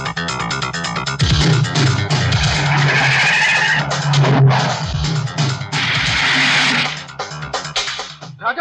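A car racing at high speed, loud and close, with engine roar and tire skids rising and falling throughout a busy, dramatic film-style mix.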